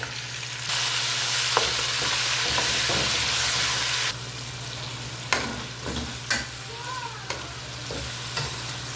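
Salted meat frying in a pot gives a steady close sizzle, with a spoon stirring and scraping in several sharp knocks toward the end.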